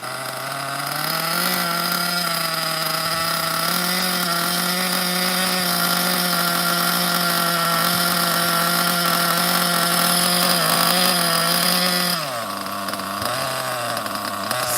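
An OFNA Ultra MBX RC buggy's Hyper 21 nitro engine runs with a loud, buzzy, high-pitched drone that holds steady, then dips and wavers near the end.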